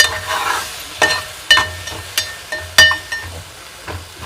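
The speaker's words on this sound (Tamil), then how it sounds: "தக்காளி நல்லா வதங்கிடுச்சு" Tomatoes and garlic being stirred and sautéed in a pan while cooking a drumstick and garlic kuzhambu, with a soft sizzle under sharp, irregular clanks of a spoon scraping the pan.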